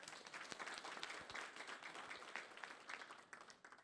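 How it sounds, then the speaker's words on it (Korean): A town hall audience at a meeting on fine dust in Anseong breaks into applause, a dense, continuous patter of many hands clapping together, heard faintly with a little background murmur. "동의하시면 박수 한번 쳐주세요."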